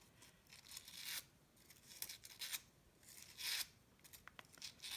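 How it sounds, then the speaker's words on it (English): Paper pulled repeatedly along a scissor blade to curl it into eyelash strips for a sculptural white paper mask, giving several bright scraping swipes with short pauses between them, close and fairly quiet. "you take it across the scissor until it's curling"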